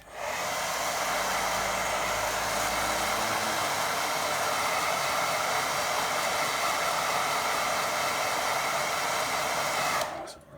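A hair dryer blows steadily on a wet watercolour painting of a rocky stream, a loud, close, continuous whoosh lasting about ten seconds before cutting off abruptly.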